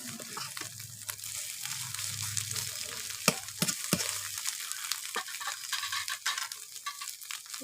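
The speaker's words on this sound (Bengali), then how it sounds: "তাই ডিম ভেজে আলু দিয়ে ঝোল করছি" Eggs frying in a pan for an egg and potato curry give a steady, close sizzle with scattered sharp pops and clicks, and no voices are heard.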